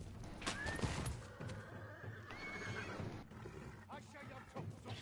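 Within a video game, a horse neighs and whinnies a few times over a busy backdrop of hoof clatter and game noise, with someone talking over it.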